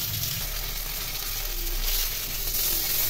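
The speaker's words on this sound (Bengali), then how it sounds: "মাছগুলো আমি ভালো করে ভেজে নিচ্ছি।" Pieces of katla fish frying in oil in a pan, a continuous close crackling sizzle at moderate level with a slight swell in the middle, alone without talk.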